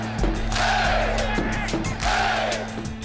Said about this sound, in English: Everybody's standing, everybody's cheering.